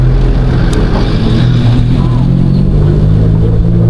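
A motorcycle engine runs loud and close, a deep continuous rumble with a steady throaty drone throughout.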